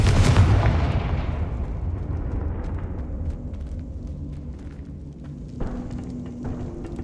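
A Confringo fire spell cast in Hogwarts Legacy lands with a loud, booming blast up front, its rumble decaying over several seconds, followed by a smaller second burst near the end.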